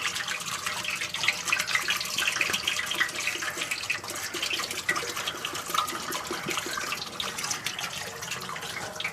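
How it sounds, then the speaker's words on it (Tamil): Coconut oil pours into a cooking pot for Ramadan nombu kanji, a continuous liquid splashing and trickling stream, fairly close and steady throughout. "அதுக்கப்புறம் தேங்காய் எண்ணெய் அப்படியே உள்ளே ஊற்றுறாங்க"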